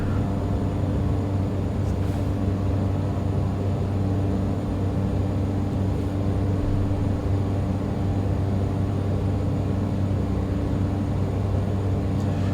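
Steady, loud engine drone and airflow of a Black Square Caravan turboprop in a flight simulator, flying fast in the traffic pattern at 120 knots, continuous with no talk.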